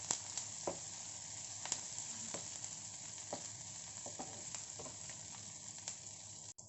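Chillies and onions for a paneer roll filling sizzle softly in a pan, cooked only briefly to stay crunchy, with scattered clicks and scrapes of a spatula stirring them, quiet and close without talk.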